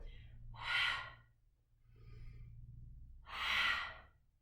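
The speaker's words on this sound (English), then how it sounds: "Let's find short little breaths here." Short, quick breaths during a vinyasa yoga flow: two loud, close breath bursts about three seconds apart, with a softer one between them, over a low steady hum. No one talks.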